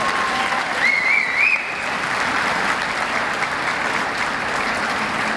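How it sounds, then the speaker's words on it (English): Sustained applause from a banquet audience, full and steady from start to finish, with a faint whistle near the beginning. "So how about a big round of applause?"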